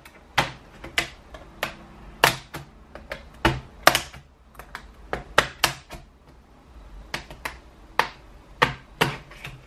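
A flat metal pry tool pops the plastic clips of a Dell laptop keyboard loose, giving a series of sharp, irregular clicks and snaps, close and crisp, with no talking.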